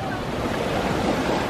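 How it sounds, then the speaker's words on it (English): Ocean waves wash onto a Hawaii shore at sunset, a close, steady roar of surf with hissing broadband spray and wind noise on the microphone, and no voices. "are the waves gonna come close to my feet?"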